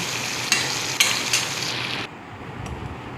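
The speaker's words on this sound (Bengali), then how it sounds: "মশলাগুলো আমি ভালো করে কষিয়ে নেব যতক্ষণ পর্যন্ত মশলা গায়ে থেকে তেল না বের হচ্ছে" Spices fry in oil for a mutton head curry, a close, steady sizzle punctuated by three sharp clinks of a utensil against the pan before settling into a quieter hiss.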